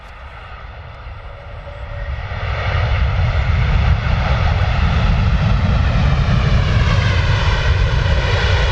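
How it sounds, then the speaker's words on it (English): An Airbus A330-300 jet arrives at London Stansted Airport. Its engine roar is loud and steady with a whining tonal layer, swelling noticeably after the first couple of seconds as it nears and then holding strong. "Here we go, A330, 300 coming in."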